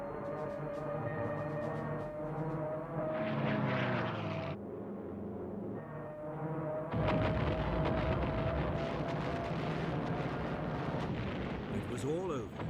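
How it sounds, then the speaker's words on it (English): Japanese WWII aircraft diving into attack on a Sunday morning, heard as loud sustained engine roar with rising whine, then a heavier burst of rumbling noise like explosions or gunfire, continuous and dense throughout. "As the Japanese aircraft dived into the attack"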